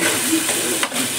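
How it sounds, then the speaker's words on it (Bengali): Spice paste for khow suey fries in hot oil with a close, steady sizzling hiss that briefly dips as it is stirred. "হ্যাঁ, মশলাটা ভাজবো। এটা ভেজে যতক্ষণ না তেল বেরোবে ততক্ষণ আমি এটা কষতেছি।"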